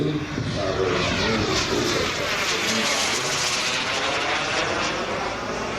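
A giant 1/5-scale radio-controlled English Electric Lightning F2A model jet roars overhead at an airshow with a steady, loud whine that holds throughout, its pitch subtly shifting as it passes.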